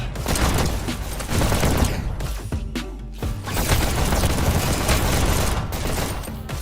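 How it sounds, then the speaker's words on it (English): Rocket fire and explosions in a VR e-sports shooter, a dense, loud barrage of blasts and booms running almost continuously, with a brief lull partway through. "Bulldog just barely missed with those rockets"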